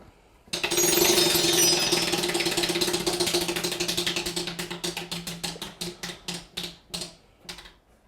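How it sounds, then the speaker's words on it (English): A game show prize wheel is spun: a loud whirring rush of rapid clicks that gradually slows into distinct, widely spaced ticks before stopping, heard alone with no talking. "Los Obispos, go ahead and spin the wheel"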